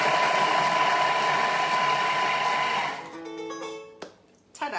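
A Thermomix runs at speed 5 chopping onions, a loud steady motorised whirr with a high whine that lasts about three seconds, then cuts off into a few faint clicks and clunks as the blades stop.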